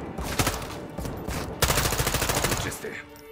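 Rapid automatic gunfire in Call of Duty Modern Warfare II, loud bursts of close shots in two stretches separated by a short pause, then tapering off.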